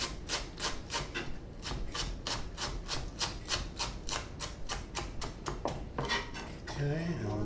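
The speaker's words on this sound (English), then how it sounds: "I'm going to lay it out flat and cut it julienne." A kitchen knife cuts a flattened leek into fine julienne ribbons on a cutting board, giving quick, even, close chopping taps in a steady rhythm, then a brief shuffle of the blade and board at the end.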